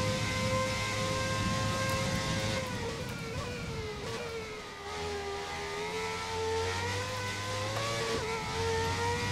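A 1990 McLaren Formula 1 car with a V10 engine in F1 2020 screaming at a sustained high pitch, rising steadily through the gears with brief dips at shifts, loud and continuous, no talking.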